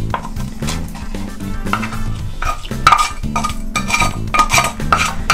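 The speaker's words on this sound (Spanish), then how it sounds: "y todo esto lo vamos revolviendo muy bien" Croquette mixture being stirred in a bowl, with repeated scraping and clattering of a utensil against the bowl in uneven strokes, loud and close, over a low rhythmic backing and with no one talking.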